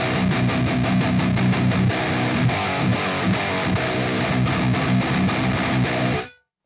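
An electric guitar plays through a Line 6 Pod Express with heavy distortion, dense aggressive riffing with rhythmic chugs that rings loud and alone before cutting off sharply.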